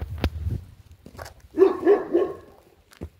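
A dog barks outdoors, a short burst of two or three close barks after a few scattered thumps and movement noises, with quiet gaps around it.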